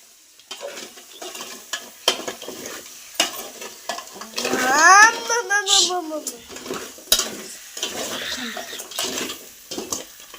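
Crab masala sizzles in a pan for a spicy crab curry, with intermittent stirring scrapes and pan knocks. A voice briefly talks over it midway.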